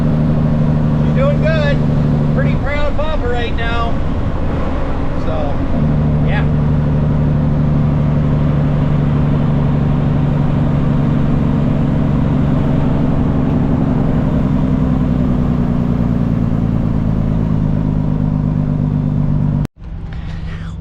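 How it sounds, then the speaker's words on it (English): A truck's steady engine drone with the engine fan's loud, constant whir running throughout, close up, with a brief cutout near the end. "I'm gonna turn the engine fan on here."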